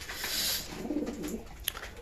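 Pigeons coo in a low, throaty burble at mealtime as food and water are set out, with a soft rustle of flutter and a sharp click near the end.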